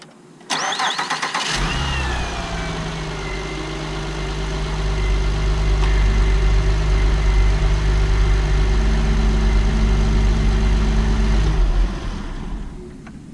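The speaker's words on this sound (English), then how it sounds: "We're going to start it up and let it run for a second." An Acura TL's engine cranks briefly and catches, then settles into a steady, close idle with a low rumble and a slight rise in revs before it is shut off near the end.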